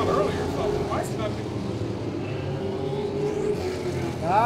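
Modified race cars run on an oval track and whine past through the turns, with a couple of rising engine sweeps over a steady crowd-and-engine wash, partly under commentary.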